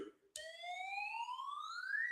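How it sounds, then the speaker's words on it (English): A siren sound effect rises in a single smooth upward sweep after a brief silent gap, clear and alone with no talking. "I can't sound the siren every time, can I?"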